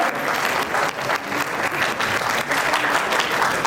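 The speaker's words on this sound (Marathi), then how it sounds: "टाळ्या जोरदार त्या ठिकाणी चालू ठेवायचं" An audience at an awards ceremony applauds vigorously for an honoree, a loud, continuous crowd clapping that stays even for the whole few seconds with no speech on top.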